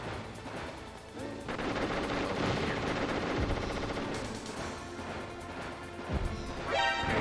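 Gunfire in the Metal Gear Solid video game, a dense run of rapid shots and crashing impacts that stays loud throughout, with a brief lull near the middle before the firing resumes.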